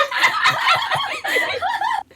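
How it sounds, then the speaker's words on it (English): Several Minecraft chickens cluck and squawk at once in a dense, busy burst, loud and close, with a brief gap near the end. "They covered it in chickens."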